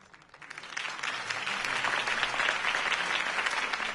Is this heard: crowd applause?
yes